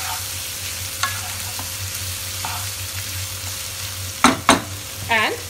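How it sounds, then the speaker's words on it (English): Marinated boiled soya fries in a pan with a steady, close sizzle, broken by a few loud clanks and scrapes of stirring toward the end. "And let them fry for a while."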